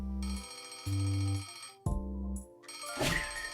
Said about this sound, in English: The familiar noise of Henry's alarm clock announces the dawn of a new day, and it will keep ringing until Henry gets up